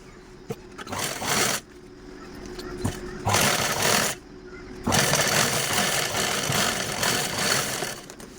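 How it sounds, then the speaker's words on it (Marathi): Sewing machine stitching a zip onto a cloth belt from the inner side. Three runs of steady mechanical whirring, two short and one longer sustained run, with brief quiet pauses between them. "आपल्याला झीप जिथं बेल्ट लावला तिथेच ठेवून स्टिच करून घ्यायचे आहे आतील साईडने"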